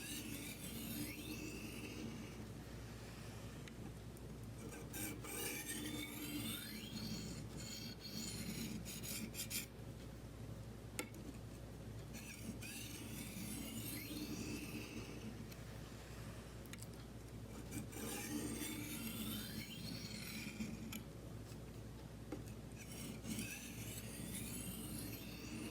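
A kitchen knife drawn in alternating strokes across a whetstone, a steady rhythmic rasping scrape repeating every second or so, close and moderately quiet, with no talking.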